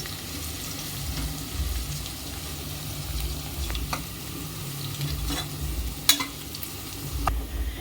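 Long-sliced onions fry in oil for jackfruit biryani, a continuous sizzling hiss with low rumble and occasional sharp clinks of a stirring spoon, close and fairly steady.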